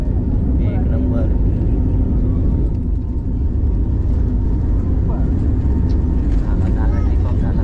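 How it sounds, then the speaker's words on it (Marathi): A steady, loud roar of engine and rushing air fills an airplane cabin as a Mumbai-to-Goa flight takes off, unbroken throughout with faint voices mixed in. "टेक ऑफ झालेलं आहे आमचं विमान"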